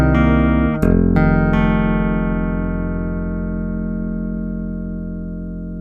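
Chapman Stick tapped through pickup position 4 of a Stickup pickup system: a few quick notes build a bright, harmonically rich chord that rings out alone and slowly fades.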